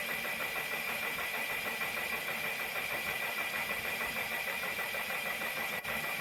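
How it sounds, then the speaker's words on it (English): A 3000 RPM N20 DC motor spins a 3D-printed magnet motor armature fitted with N52 neodymium magnets. It gives a continuous, even mechanical whir and buzz throughout, close and steady with no voices. "A 3000 RPM N20 DC motor spins the armature by pushing against the"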